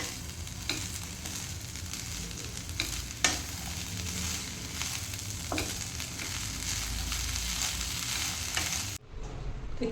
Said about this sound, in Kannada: ಇವಾಗ ನೋಡಿ ಅಕ್ಕಿ ತೊಳೆದಂಥ ನೀರನ್ನು ಈ ಹಲಸಿನ ಸೋಳೆಗೆ ಹಾಕ್ತೇನೆ